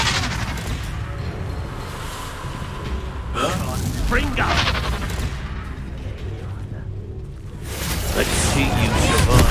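The Confringo fire spell in Hogwarts Legacy goes off as two loud, crackling blasts, the second swelling toward the end. Game combat and voices surround it.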